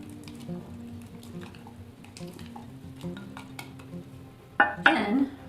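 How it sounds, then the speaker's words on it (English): A spoon stirs sourdough starter in a jar with soft scraping and clinking, quiet and close, ending in a brief louder clatter of the utensil against the glass. "let's just go ahead and stir up the starter a little bit"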